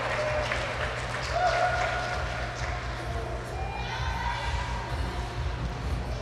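Hockey crowd at a college national semifinal against South Dakota applauding steadily, a broad wash of clapping and murmur that swells briefly and then holds at a moderate level in a rink.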